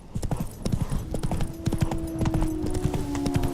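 Horse hooves clip-clop steadily in The Witcher 3 as the horse trots along, a brisk rhythmic patter of hoof strikes up close, with a faint tonal hum in the background and no talk.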